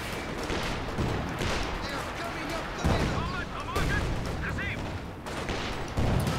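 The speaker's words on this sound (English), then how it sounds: "Couple shots onto the Panzer IV. Grenades coming out every which way." Dense battle noise from Company of Heroes 2, with steady rifle and machine-gun fire and grenade blasts aimed at a Panzer IV. Heavy booms recur every second or so under continuous crackle, and a voice talks over it.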